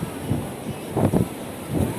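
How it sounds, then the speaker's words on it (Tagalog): Strong gusts of wind during Typhoon Rolly, low rumbling surges that swell and buffet in uneven bursts, rushing past close by with a steady hiss beneath. "Pero sobrang lakas ng hangin talaga."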